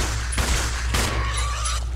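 A gun fired at a frog creature in Resident Evil 0 HD, two loud muffled shots about half a second apart over a dense constant rumble, with a thin ringing tone lingering after.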